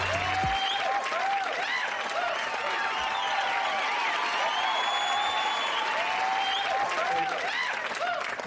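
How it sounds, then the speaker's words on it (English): A dense, steady roar of applause from a large crowd, continuous clapping with some whoops, loud and close throughout. "So I love this the applause sound."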